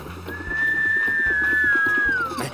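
A single long, steady cartoon whistle tone sustained for about two seconds, dipping slightly in pitch before trailing off, over a faint rhythmic background.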